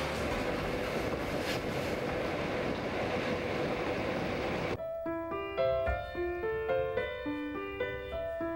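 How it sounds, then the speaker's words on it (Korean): The Orient Express passenger train rumbles and clatters along the rails through Austria's Tyrolean valley in a dense, steady roar, which cuts off abruptly as gentle melodic music takes over. "오리엔트 특급 열차는 오스트리아 티롤리안 계곡을 따라 달려갑니다."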